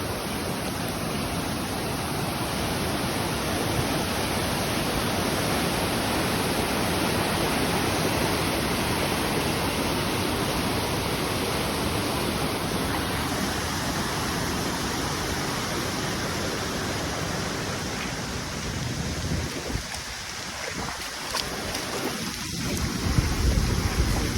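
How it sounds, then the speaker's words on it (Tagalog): A strong, constant roar of rushing floodwater from heavy rain flowing down a road, loud and close, continuing unbroken with a slight rumble toward the end. "Sobrang lakas ng tubig."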